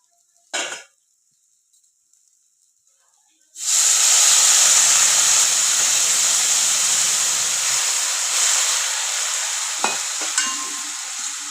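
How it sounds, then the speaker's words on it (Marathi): Hot water is poured into a hot pan and bursts into a loud, sustained hiss of steam that slowly eases, after a brief clink and a few seconds of quiet; a light tap follows later. "आता याच्यामध्ये गरम पाणी घालून घेऊया"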